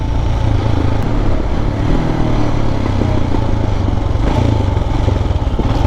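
A rare twin-cylinder 250cc Jawa Yezdi motorcycle engine runs with a steady, rough low rumble and mechanical clatter, close by and continuous, with no talk over it.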